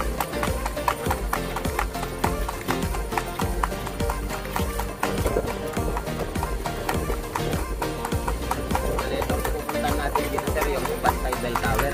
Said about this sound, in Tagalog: Kabayo, mabilis.